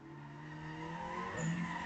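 At a drift event at Redding Motorsports Park, a car squeals its tires in a sustained, rising skid, heard at a distance and fairly faint, with engine tone underneath.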